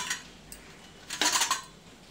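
Urad dal roasting in a pan and stirred with a utensil, giving a few light scraping clinks, then a louder cluster of dry rattling scrapes near the end.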